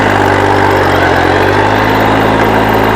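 A Kubota L225 tractor drives down a street with its clutch fully released and the engine held near 2,000 RPM, giving a steady, loud, close engine drone that runs unbroken throughout with no talking.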